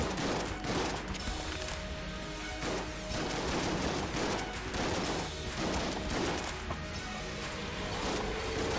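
Shotgun blasts and gunfire in the video game Enter the Gungeon, a dense, steady stream of repeated shots and impacts at moderate loudness with no talk over it.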